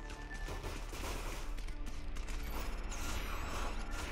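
Rapid gunfire with mechanical clanks as a wall is shot in the side-scrolling video game Headlander, a dense, continuous burst of shots and metallic impacts at steady loudness throughout.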